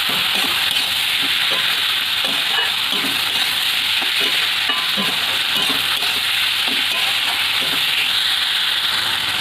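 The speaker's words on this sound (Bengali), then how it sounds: "এবারে আমি ভালো করে কষতে নেব।" Cabbage and potato stir-fry in a pan for a Bengali curry, giving a continuous, loud sizzle and hiss with soft scraping and stirring sounds mixed through, and no talking.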